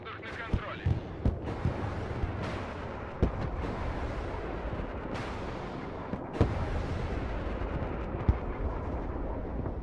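Missiles launching and exploding in the modern warfare game Broken Arrow, a thick roar of battle with repeated sharp blasts and booms scattered over constant rumbling, while players talk over it.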